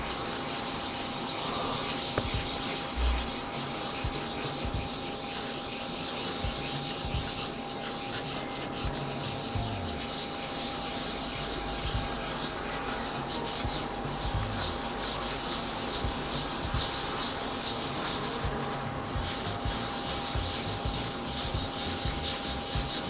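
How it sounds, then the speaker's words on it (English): A polishing pad rubbing gently over the holographic area of an Expedition Charizard trading card, a continuous close, dry scratchy rubbing in steady strokes, alone, with a faint constant hum beneath. "I am going to very gently use one of these polishing pads."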